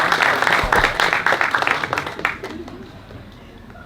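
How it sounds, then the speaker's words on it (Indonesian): An audience at a film press conference and cast reveal breaks into a short round of applause that fades out over a few seconds. "Tepuk dulu teman-teman."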